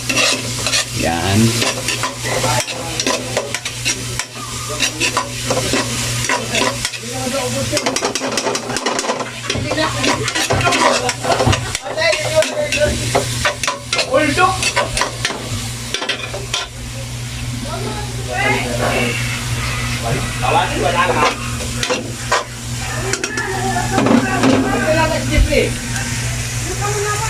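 Onions frying in a pan for a bangus dish, a continuous close sizzle with frequent stirring and scraping throughout, while a person talks intermittently over it.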